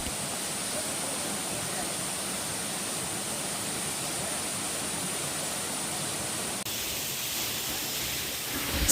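Rampa Waterfalls rushes steadily as a loud, unbroken broadband roar of falling water, close by, with no other sounds standing out.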